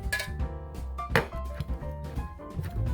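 A knife roughly chops soft cooked chestnuts on a board, giving a series of irregular dull knocks and light taps over a few seconds, close by, with clinks of utensils in between.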